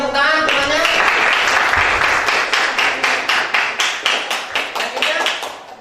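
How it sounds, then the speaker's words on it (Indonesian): A classroom of students applauds, starting as a mix of clapping and voices, then settling into a rhythmic unison beat of separate claps that slows and fades. "Ya, kita kasih tepuk tangan semuanya."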